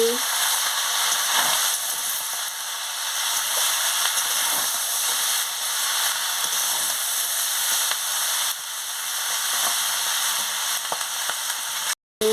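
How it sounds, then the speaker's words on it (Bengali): Mixed vegetables for a Malabar spinach raita sizzle and fry in a pan, a continuous bright hiss broken by occasional spatula scrapes, with no voices. "এবার আমি সব সবজিগুলোকে দিয়ে দিচ্ছি দিয়ে ভালো করে নাড়িয়ে নিচ্ছি"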